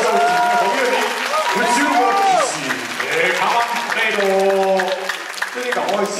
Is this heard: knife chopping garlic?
no